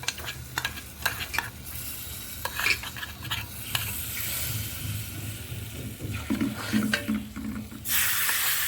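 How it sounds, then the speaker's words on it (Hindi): Hot tadka tempering poured into a pot of mutton curry, a steady close sizzle with spoon stirring and clinks, bursting louder near the end as the spiced oil hits the curry. "लीजिए ये तड़का हो गया, हम इसको मटन में डाल रहे हैं"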